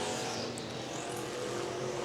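Factory stock race cars roar around the Tulsa Speedway oval in a feature race, a steady loud engine drone with cars passing and revving, no voices.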